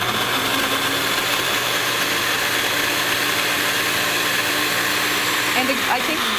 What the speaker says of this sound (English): I've gone to a high-end blender